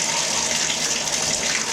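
Shower water runs into a container, a steady loud rushing gush of filling liquid with no break.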